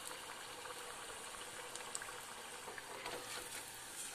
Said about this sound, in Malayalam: ഇനി നമുക്ക് ഇതേപോലെ ചെയ്തെടുത്ത ഓരോന്നും ഇതിലേക്ക് ഇട്ട് കൊടുത്ത് ഫ്രൈ ചെയ്തെടുക്കാം